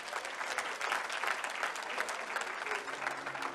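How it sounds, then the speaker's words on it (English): A sustained round of applause from the audience at the 2023 Sportsman and Sportswoman Awards ceremony, steady and fairly loud throughout with no talking over it. "Another round of applause for him."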